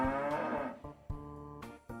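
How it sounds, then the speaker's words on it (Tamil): Cattle moo loudly at night in a village, one long drawn-out call followed by several shorter bellows, close and clear with no talking. "இரவு மாடுங்க பயங்கரமா கத்துற சத்தம் கேட்டிருக்கு"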